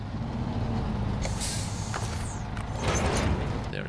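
Air brake hiss from a truck in SnowRunner, a broad noisy release over a steady low engine rumble, with a second louder burst of hiss near the end.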